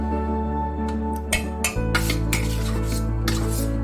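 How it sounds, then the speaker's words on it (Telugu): A spoon stirs drumstick pickle mixture in a pot, with scraping clinks against the metal over a steady background hum and no talk. "ఇప్పుడు దీన్ని ఒక తిప్పేసుకుంటున్నాను."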